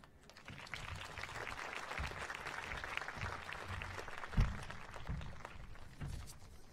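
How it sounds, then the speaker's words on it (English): An audience at a college transfer achievement celebration applauds in a fairly quiet, sparse and crisp clatter of hands, with one sharper clap standing out midway through the few seconds of clapping. "Please give a round of applause to Dr. Melba Castro."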